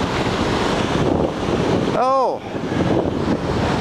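Ocean surf rolls onto a beach on a hot day, a steady loud wash of waves and wind buffeting the microphone throughout, while a voice briefly cries out with excitement in the middle.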